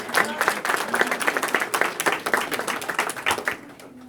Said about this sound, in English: Let's give them all a round of applause for what they do.